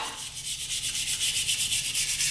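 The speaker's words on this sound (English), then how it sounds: "hit basically everything that I'm gonna weld with the stainless brush" A stainless steel wire brush scrubs metal on a 350Z oil pan being prepared for TIG welding, producing rapid, rhythmic back-and-forth bristly rasping that is loud and close throughout.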